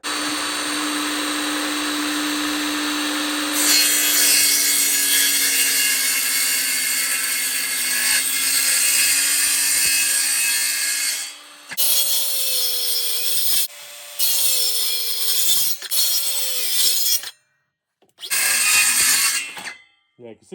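A Parkside 20V cordless circular saw whines and cuts through wood in several long bursts, stopping and restarting, loud and close, with brief silences between cuts.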